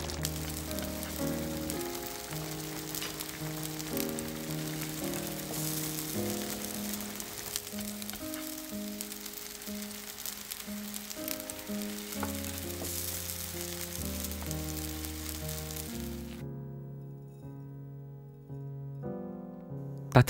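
Thick gang doenjang soybean paste stew bubbles and sizzles in a pot, a soft, continuous crackling hiss under louder background music that plays almost throughout.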